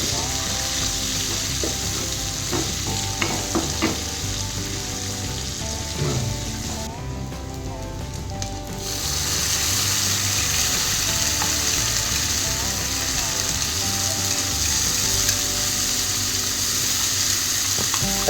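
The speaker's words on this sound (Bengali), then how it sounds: "রসুনগুলো হালকা করে ভাজার পর আমি পেঁয়াজগুলো দিয়ে দেবো, দিয়ে পেঁয়াজগুলো ভালোভাবে আমি ভেজে নেব।" Garlic and onions fry in a wok with a loud, continuous sizzle that eases briefly midway before surging again, with a few light utensil taps.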